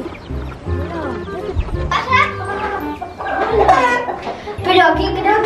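Chickens cluck and squawk inside a henhouse, close and lively, with children's voices talking over them throughout.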